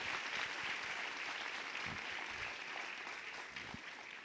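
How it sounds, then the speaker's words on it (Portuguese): A church congregation applauding, steady continuous clapping heard at a moderate distance and fairly faint, with a few stray louder claps through the short stretch. "aplauda mesmo"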